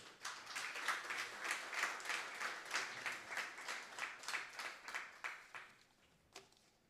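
Audience applause at a university Africa Day commemoration at CPUT, a steady burst of clapping from a crowd that fades out toward the end, with a last lone clap.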